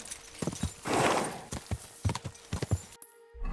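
A horse charging along in the medieval game Kingdom Come: Deliverance II, with rapid hoof clip-clops, a breathy snort in the middle, and the sound cutting out abruptly near the end.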